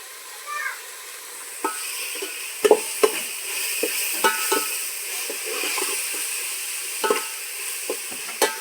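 Onion frying in a pan for rajma masala: a steady sizzle with scattered stirring clinks and scrapes from a spoon, close up, with no talk.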